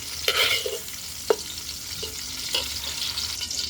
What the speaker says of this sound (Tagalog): Kunting gisa lang po yan dahil kailangan half cook lang yan.